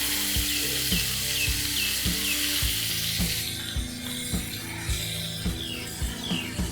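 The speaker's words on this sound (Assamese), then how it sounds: "এতিয়া মই ইয়াতে অলপমান বাটাৰ দি দিম।" Butter sizzling in a preheated wok, a steady hiss of frying fat running throughout, close and fairly loud, with regular clinks and scrapes of a utensil against the pan over it.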